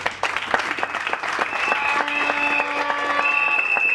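Audience applause fills an academic degree ceremony for Congolese police officers, starting with scattered claps and swelling into steady, sustained clapping, with a faint tonal sound emerging underneath.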